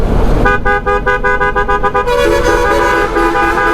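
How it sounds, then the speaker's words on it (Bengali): A loud aftermarket horn on an Apache RTR motorcycle blares in a rapid series of short bursts, then holds one long sustained tone. It is close and harsh, with traffic noise behind it. "ডেন্সর হর্ন লাগাইছি"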